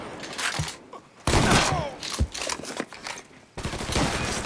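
Loud gunfire from the video game Mafia III: rapid automatic bursts and heavy single shots come in clusters separated by short quiet gaps, close and punchy throughout.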